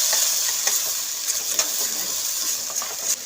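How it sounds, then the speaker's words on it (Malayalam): Crushed ginger, garlic and green chilli are stirred in hot oil, a close, bright sizzle with scraping spoon strokes and light clinks against the pan, for a few seconds. "ആദ്യം ഇഞ്ചി, വെളുത്തുള്ളി, പച്ചമുളക് ചതച്ചത് ചേർത്ത് കൊടുത്ത് ഒന്ന് മിക്സ് ചെയ്തെടുക്കാം."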